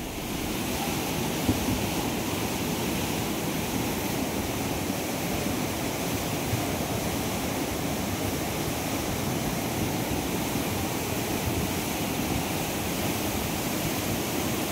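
Typhoon floodwater rushing through a terminal, a loud continuous roar of churning water and wind with no pause and no voices heard.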